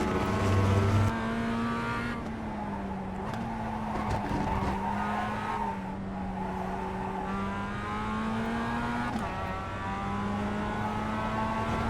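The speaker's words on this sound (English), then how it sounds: "I put my brakes on to slow down for the corner" A race car in a racing video game brakes for a corner, tires skidding and squealing in a sustained whine over the steady engine drone, fairly quiet and with no voices.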